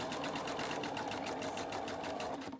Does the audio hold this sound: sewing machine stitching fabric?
yes